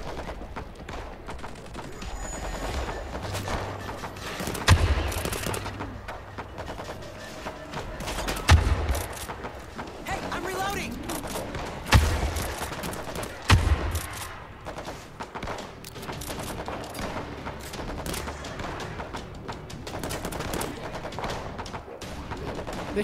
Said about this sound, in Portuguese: Barulho de tiros